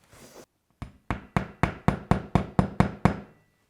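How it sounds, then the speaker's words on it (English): A handle used as a hammer striking wood indoors: one short scrape, then nine sharp, evenly spaced knocks close by, alone and quiet. "I'm using a handle as a hammer because no one knows where hammers are."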